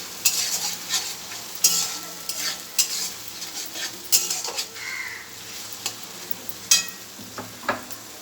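A spoon scrapes and stirs prawn malai curry with poppy seed and melon seed paste in a sizzling pan, giving repeated sharp metallic strokes over a low frying hiss.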